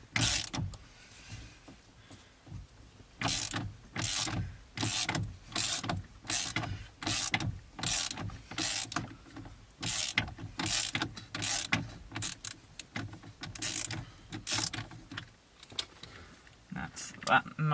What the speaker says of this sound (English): you're going to need a bit of an extension bar so you can actually get your ratchet into the steering wheel